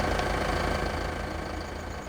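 John Deere tractor engine in the farming game Farming Simulator 17, a steady low idling rumble with a faint rhythmic knock, continuous and close with no voices.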